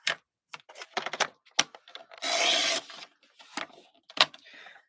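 Cardstock pieces for a handmade card being cut on a paper trimmer, with sharp clicks and taps, a steady slicing swish midway, then more scattered clicks and light handling.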